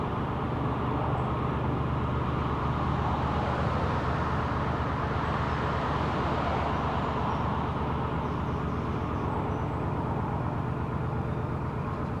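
Steady road traffic noise heard from a narrowboat on the Macclesfield Canal past an old swing bridge, a continuous loud engine rumble and roar with no breaks and no voices.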